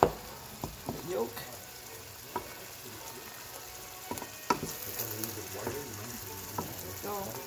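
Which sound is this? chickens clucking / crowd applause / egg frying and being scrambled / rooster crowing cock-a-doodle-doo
egg frying and being scrambled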